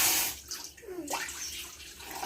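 Water poured into a cooking pot to make Maggi noodles, a broad splashing pour that rises and swells midway and continues steadily to the end, close and fairly quiet with no talking.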